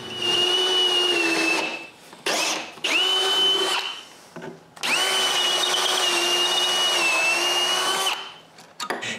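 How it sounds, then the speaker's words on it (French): A power drill bores a hole through two stacked wooden pieces for a chainsaw-built lumber mill, whining steadily in several long bursts with short pauses between, close and loud. "je perce un trou dans les deux morceaux"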